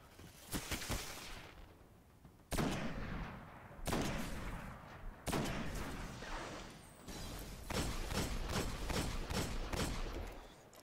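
Gunfire with explosive rounds in the Destiny video game on PS4: repeated bursts of loud shots and booming blasts, separated by short pauses, with each burst trailing into a rumbling decay.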